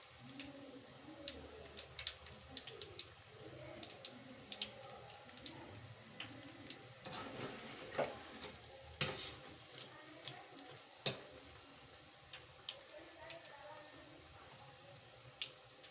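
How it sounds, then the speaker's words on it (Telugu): Onion pakodi deep-frying in hot oil until golden, a steady crackle of fine sizzling pops and ticks with a few louder spits, heard close and alone without talk. "డీప్ ఫ్రై చేయాలి."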